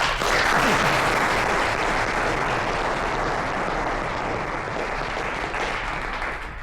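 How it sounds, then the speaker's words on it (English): An audience at an awards ceremony applauds the winning teams, a dense, sustained wash of many hands clapping evenly throughout, fading slightly toward the end. "And applause to them."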